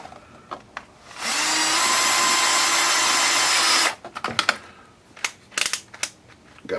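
Cordless power drill driving smaller screws into a wooden back brace, one sustained whirring run of about three seconds, close and loud, followed by scattered clicks and handling knocks.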